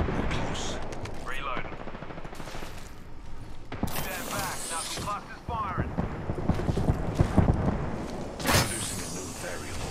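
Apex Legends gunfire: rapid bursts and single shots at close to mid range, mixed with weapon handling clicks and game effects, while a player talks over much of it.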